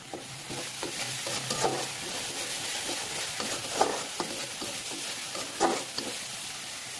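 Soya balls frying with lightly fried onion and ground spice paste, a continuous close sizzle broken by occasional soft scraping stirs, no voices.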